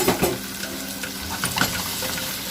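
Food rinsed under a running kitchen tap makes a close, continuous splash of water with occasional clinks and handling noises throughout.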